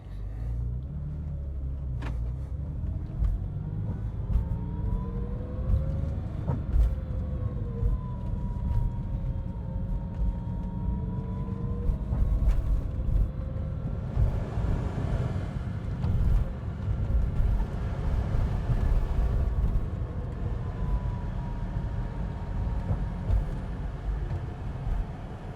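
Porsche 996.2 fitted with a 4.1L Hartech engine, ported heads and a California-compliant exhaust, idling warm with a steady low rumble and faint drifting tones, fairly quiet and continuous throughout.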